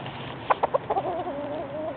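A pet rooster clucks in Hollywood with three quick sharp clucks followed by a softer, wavering drawn-out call, close and clear with no talking.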